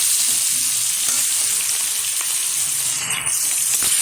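Ground onion paste sizzles in a pan with whole cumin seeds while making a young jackfruit kalia curry, giving a continuous loud hiss and crackle with no talking.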